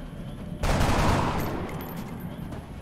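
A sudden loud burst of sustained gunfire erupts in XCOM Enemy Within, a dense rattling volley that holds for about a second before easing into a lingering rumble.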